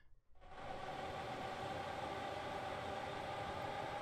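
A train running in Transport Fever, a steady broadband rumble and rolling rail noise that starts abruptly after a brief quiet moment and holds constant, loud and close, with no talking.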